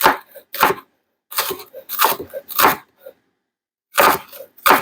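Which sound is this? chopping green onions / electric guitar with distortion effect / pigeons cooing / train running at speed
chopping green onions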